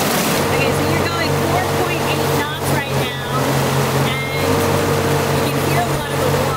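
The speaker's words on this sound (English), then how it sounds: "a lot of the water, a lot of the whooshing through the engine." Boat pushed by a lightweight tiller-steered electric outboard motor at about 4.8 knots, with a steady rushing whoosh of water along the hull and a low constant drone, while people talk over it throughout.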